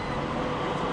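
A tram in Istanbul rumbles steadily and loudly, a continuous close rolling roar for a brief moment with no voices.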